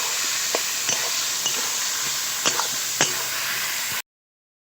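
Marinated chicken sautéed dry in spices for biryani, with a constant sizzling hiss broken by a few light stirring clicks and scrapes, then sudden silence near the end.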